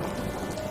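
Steady heavy rain hiss, a dense broadband wash with faint patter, continuous and even throughout a very short stretch, with no voices.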